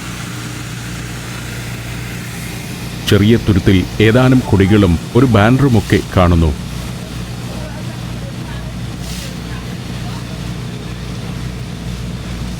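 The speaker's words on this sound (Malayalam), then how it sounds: "ബോട്ട് ഹുളുമാലയോട് അടുക്കുകയാണ്." Boat engine droning steadily as the boat nears Hulhumale in the Maldives, a constant low hum running throughout with someone narrating over it for a few seconds midway.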